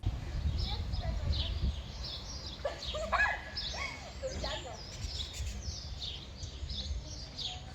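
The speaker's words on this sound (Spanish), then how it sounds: "El sonido de las aves era lo predominante en esta placita sencilla, pero con mucho verde." Birds chirping and singing in a small, leafy town square, with repeated short tweets and calls scattered over a low background murmur and some nearby noise, with no talk.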